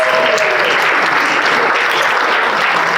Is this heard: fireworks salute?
no